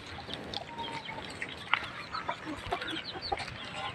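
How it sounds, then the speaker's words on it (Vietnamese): Several brooding hens cluck faintly outdoors in a garden, soft irregular clucks scattered over steady background noise. "Mấy con gà này ấp"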